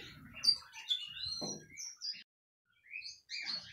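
Budgerigars chirp inside an aviary holding young fledgling birds, with quick high tweets and squeaks in short bursts, a brief gap of silence, then more chirping nearby.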